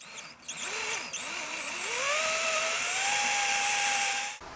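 A power drill with a 7 millimetre bit whines steadily into the wood of a guitar body, its pitch climbing as the bit bites in, then cuts off abruptly near the end.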